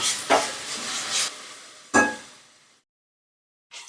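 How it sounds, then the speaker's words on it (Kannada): Onion and ginger-garlic paste frying in a pan for masala pasta, heard as a few scraping stirs over a soft sizzle that fades to silence, then one brief final stir. "1-2 ನಿಮಿಷ ಚೆನ್ನಾಗಿ ಈರುಳ್ಳಿ ಮತ್ತೆ ಶುಂಠಿ ಬೆಳ್ಳುಳ್ಳಿ ಪೇಸ್ಟನ್ನು ಫ್ರೈ ಮಾಡ್ಕೊಳ್ಳೋಣ"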